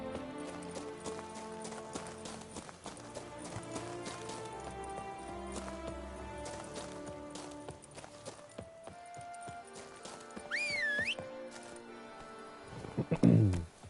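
Horse hooves clop along in the Witcher 3 game, a steady rhythmic patter under game music and ambient effects, with a louder burst of sound near the end.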